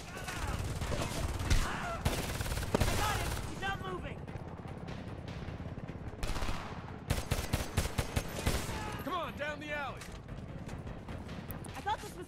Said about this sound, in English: The bullet sounds lagging.